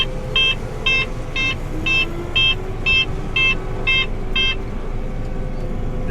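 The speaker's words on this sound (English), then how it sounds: "that's the last time that's going to beep at us" A combine harvester's warning alarm sounds nine evenly spaced electronic beeps, about twice per second, over a steady low machine rumble during a bean harvest, then stops while the engine keeps droning.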